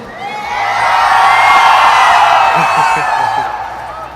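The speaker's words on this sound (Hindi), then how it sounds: "अभी इन दो लड़कियों के लिए कौन चिल्लाएगा सबसे ज्यादा जोर से?" A large crowd at a film promotional event swells into loud shouting and cheering for two girls on stage, a dense roar that builds, holds and fades over a few seconds.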